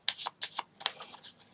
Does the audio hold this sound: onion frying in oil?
no